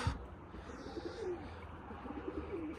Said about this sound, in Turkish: Baktım iki tane kuş var damda.